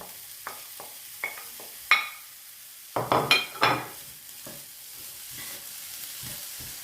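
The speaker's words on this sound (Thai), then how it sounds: "เจียว หอมหัวใหญ่ให้หอมหอมจ้ะ" Sliced onion fries in a hot pan while being stirred, bursts of sizzling crackle swelling with each turn, along with scrapes and clinks of the spatula against the pan.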